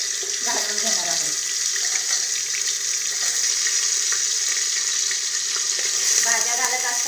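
Vegetables fry in a pot for daliya pulao, a bright steady sizzle running throughout with occasional faint stirring scrapes and a few clinks.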